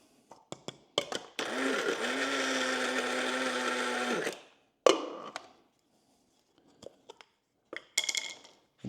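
Pecans being ground in a kitchen blender make a loud, steady whirring burst of about three seconds. Clinks and knocks of handling come before and after, and there is no talking.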